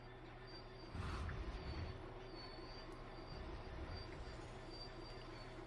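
A train in the Train Sim World 3 video game brakes toward a stop, its wheels giving faint squeals over a steady, low rolling rumble, with a brief louder surge early on.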